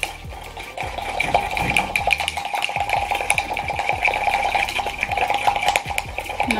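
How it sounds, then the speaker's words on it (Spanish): Dalgona coffee mixture is whisked hard in a bowl, a fast, continuous rattling scrape of the whisk against the sides that stays close and loud throughout, with no talking. "Y ahí batimos con ganas para que nos quede riqui esto."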